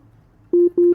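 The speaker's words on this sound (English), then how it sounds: "it really gives a distorted vibes, almost similar to what you can say an electric guitar with a distortion amplifier attached to it" A distorted synthesizer tone with a gritty, electric-guitar-like buzz, played as two sustained notes of about the same pitch, each held briefly with a short gap between them, loud and alone.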